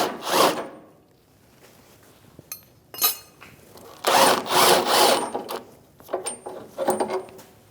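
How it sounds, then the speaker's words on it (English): Socket wrench ratcheting and straining against a badly rust-corroded, penetrant-sprayed nut on a rear upper control arm of a 2016-2025 Chevrolet Malibu; several bursts of metallic clicking and grinding separated by short pauses, close and fairly loud, no talking. "Let's loosen this nut up."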